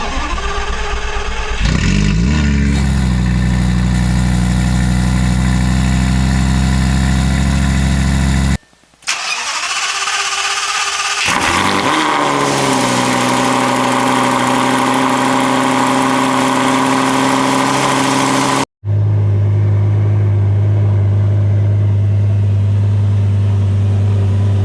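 A Lamborghini Gallardo fitted with a Fabspeed exhaust starts and revs loudly up close, with a deep idle and surging throttle blips, broken by two brief silent cuts.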